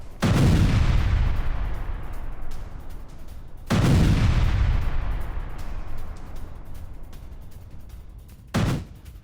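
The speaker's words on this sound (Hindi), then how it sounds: "रूसी आर्टिलरी ने विध्वंसक हमला किया है।" Russian artillery striking Ukrainian positions near Klishchiivka: two heavy, booming blasts a few seconds apart, each rolling off slowly, followed by a sharper, shorter crack near the end.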